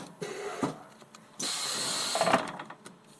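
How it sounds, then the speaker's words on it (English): A hot foil blocking machine presses gold foil onto a badge, giving short mechanical clunks followed by a sustained whirring hiss and a few clicks, close and moderately loud. "That's the sound of a hot foil blocking machine"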